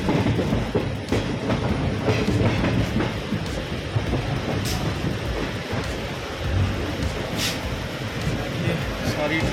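A passenger train runs along the rails at speed, its steady rumble and rattling wheel noise continuous and close throughout, with faint speech occasionally audible over it.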